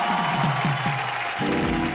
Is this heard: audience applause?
yes